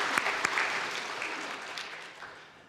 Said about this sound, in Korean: 또 박수 한번 보내주실까요?